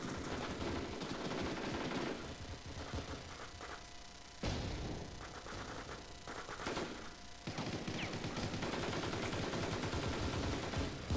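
Sustained automatic TAR-21 rifle fire in the online shooter War Inc Battlezone, loud rapid bursts running nearly the whole time with brief dips in between.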